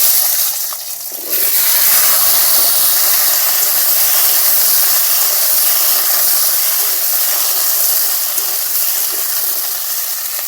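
Pieces of boroi (jujube) go into hot oil seasoned with panch phoron and dried red chilli, then hiss and sizzle loudly and steadily after a short quieter start.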